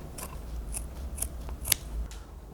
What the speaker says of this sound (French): on vient découper avec les ciseaux tout autour des pièces à sceller le feutre